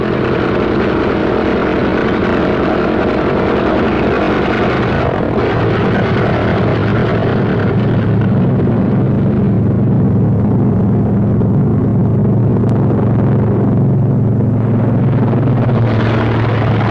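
A pair of World War II fighter aircraft taking off: a loud, sustained propeller-engine roar that swells and shifts in pitch as the planes accelerate down the runway, with no talk over it.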